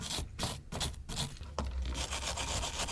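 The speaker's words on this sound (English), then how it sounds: "Now you can take your wire brush and clean that up." A wire brush scrubs a battery cable bolt in quick, rough back-and-forth rasping strokes. The strokes are close and moderately loud, then settle into a steadier scraping toward the end, with no voices.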